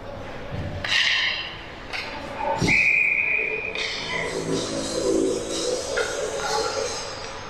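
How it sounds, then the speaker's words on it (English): A referee's whistle stops play in an ice hockey game, a short clear blast heard in the middle over arena crowd murmur, skate scrapes and stick clatter, with voices nearby. "and now we have the whistle"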